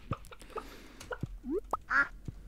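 Chickens in the Stardew Valley video game give a few short clucks and squawks, with one louder call near the end, spaced among soft taps and background game noise.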